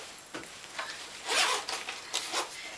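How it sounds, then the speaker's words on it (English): A zipper is pulled shut on a Bergan Comfort Carrier fabric dog bag, with several quick, close rasping strokes and a longer pull in the middle. "and it zips up"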